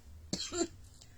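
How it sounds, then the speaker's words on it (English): One short, dry cough close to the microphone, followed by quiet. "now I'm coughing"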